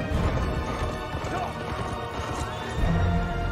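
Horses gallop and neigh during a joust in a Rings of Power fantasy TV episode, with hoofbeats and whinnies set in a loud, dense battle mix that runs steadily throughout.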